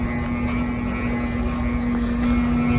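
Strong southwest monsoon (habagat) wind roaring in a steady, loud broadband rush, with a constant droning hum running through it for the whole stretch and no break or lull.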